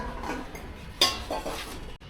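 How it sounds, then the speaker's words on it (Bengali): A metal lid clanks onto a cooking pot after a stir, a sharp clink in the middle set against soft scraping and kitchen clatter, close and fairly loud. "এখন ঢাকুন দিয়ে একটু ঢেকে দিচ্ছি।"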